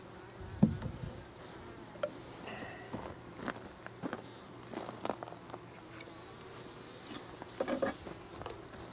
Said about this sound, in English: Woo, it's loud. Lots of bees in the top box area.